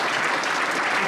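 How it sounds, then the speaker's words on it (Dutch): Audience applause from a crowd at a Dutch comedy roast warm-up, a dense, loud, continuous clapping wash with no pauses and no voices over it. "Ook even een applaus voor hem."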